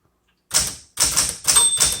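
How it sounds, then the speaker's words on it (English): A 1960s–70s Smith Corona Galaxie II typewriter types four loud, close keystroke bursts in quick succession after a moment of silence, each a sharp mechanical clack followed by a short rattle. "it's a good starter typewriter"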